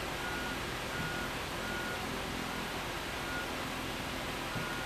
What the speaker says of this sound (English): Oh, it's somebody backing up. They're backing up with a truck.